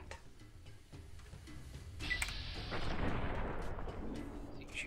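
Gunfire in the Fallout New Vegas video game, a sudden loud boom with a long, rumbling decay after a few faint earlier clicks and shots.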